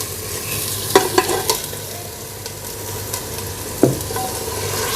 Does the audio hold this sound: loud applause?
no